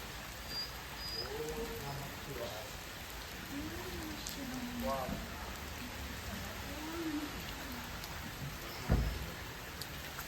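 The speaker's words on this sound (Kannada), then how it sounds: "ಮಳೆ ಅಂತೂ ಸಿಕ್ಕಾಪಟ್ಟೆ ಬರ್ತಾ ಇದೆ" Heavy rain pours steadily near a crowded temple area in Tiruvannamalai, a dense unbroken hiss throughout, with faint bird-like chirps mixed in and a single sharp knock near the end.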